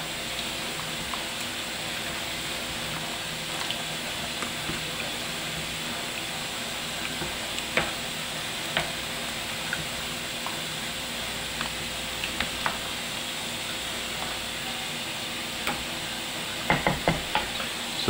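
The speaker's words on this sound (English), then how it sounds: "we're going to go ahead and stir it up" Venison chili stirred in a cooking pot, a steady bubbling simmer with scattered clinks and scrapes of the spoon against the pot, growing busier toward the end, close and without talk.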